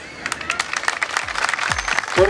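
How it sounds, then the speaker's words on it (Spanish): A crowd applauds with steady clapping for a couple of seconds at an outdoor park inauguration ceremony, with some voices mixed in beneath it. "aplauso"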